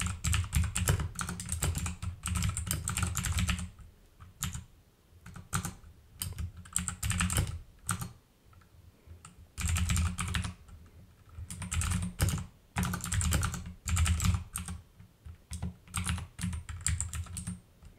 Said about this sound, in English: And let me just type a bit of SQL code.